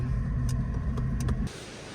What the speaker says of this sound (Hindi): अब गाड़ी बाहर वापस खड़ी करने जा रहे हैं।